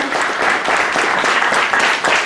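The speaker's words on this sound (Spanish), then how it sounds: "a quien les ofrecemos un fuerte aplauso" Audience applause at a law book presentation in Mexico, a dense, steady round of clapping from a full room, loud and even throughout with no break.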